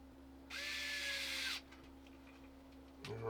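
A small electric screwdriver drives screws into a game controller during a Hall effect stick mod, one steady high whine of about a second, with a brief quieter burst near the end.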